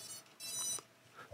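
BETAFPV Aquila16 drone gives a short, quiet run of electronic beeps as its battery is connected, faint bright tones with a louder burst in the middle.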